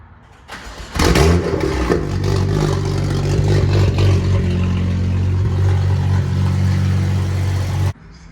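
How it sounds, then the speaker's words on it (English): A BMW F87 M2 fitted with a Valvetronic exhaust starts up with a sharp, loud bark, then drops into a deep, steady idle rumble close by before cutting off. "we're gonna do a quick startup real quick"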